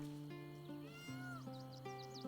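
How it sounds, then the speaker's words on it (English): A cat in the video game Baldur's Gate 3 gives a short run of soft, rising and falling meows over a quiet game music background. "How did I hear a meow?"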